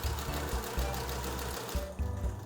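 A Bernette b68 sewing machine sews a hem with a close, steady, rhythmic mechanical whir and stitching chatter that runs nearly continuously, with a couple of brief slowdowns.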